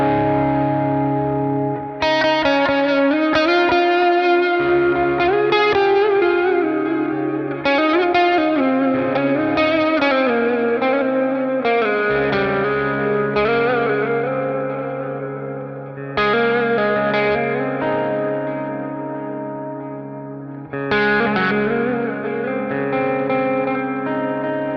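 An electric guitar through the Neural DSP Archetype Plini plug-in plays a long, lush passage of ringing chords and melodic lines, washed in chorus-like modulation, echo and reverb that swirls on after each phrase; loud, close and without talking.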